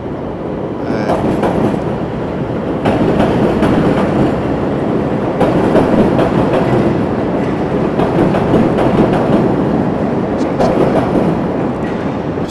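A train rolls past close by in a long, loud, steady roar, with rhythmic clickety-clack of wheels over rail joints running throughout.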